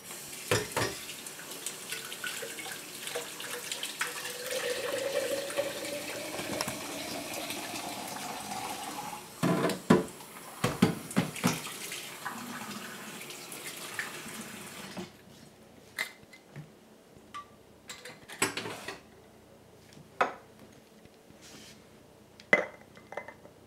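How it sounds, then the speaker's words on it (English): Tap water running into a container holding sourdough starter made with bleached flour, faint and close, followed by scattered clinks of glass and utensils. "this I will just add water to it."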